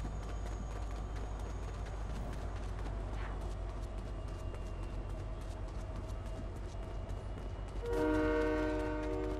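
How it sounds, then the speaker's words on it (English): A train rumbles past steadily in the Fortnite video game, a continuous heavy rolling drone that ends in a loud horn blast near the end. "Train is fast."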